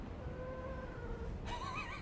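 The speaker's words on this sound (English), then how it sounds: "My cat is talking in her sleep." A pet cat makes soft, drawn-out vocal sounds in her sleep, a faint warbling murmur against steady background hiss, followed by a brief higher chirping trill near the end.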